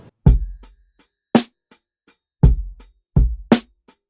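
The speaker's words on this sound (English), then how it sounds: "So here's what the drums sounded like before" An unprocessed indie soul drum recording plays a sparse groove of punchy kick and snare hits with light cymbal ticks between them, dry and close with short decays.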